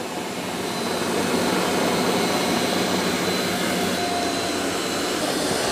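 A Eufy X10 Pro Omni robot vacuum and mop runs with a steady, loud broadband whirring hum, constant throughout and heard close up without speech.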